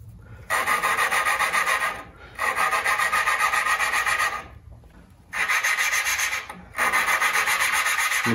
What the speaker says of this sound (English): You hear the compound kind of stop cutting and then you lift it.